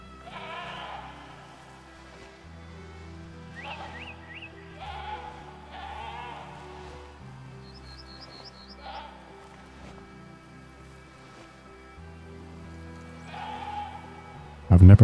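Goats calling out alarm bleats in the hunting game Way of the Hunter, several short bleats spread through a quiet stretch with background game ambience and a loud burst at the very end.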